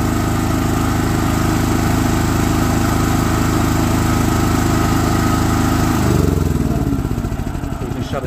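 A generator engine runs steadily and loudly at an even idle, a constant droning hum that shifts slightly in pitch near the end as the load or speed changes.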